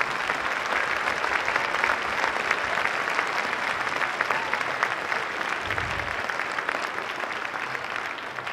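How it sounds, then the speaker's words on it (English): Sustained audience applause from a capacity crowd at a school string music concert, dense steady clapping filling the hall for several seconds without a break, loud and close with no talking. "let's give all of these musicians a fantastic and huge round of applause."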